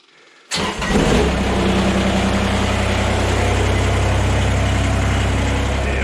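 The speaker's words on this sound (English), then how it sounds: "We'll get the tractor warmed up." A tractor's diesel engine cranks after glow-plug preheat on a frosty morning and catches with a sudden roar, then settles into a steady, loud idle, close by with no talking.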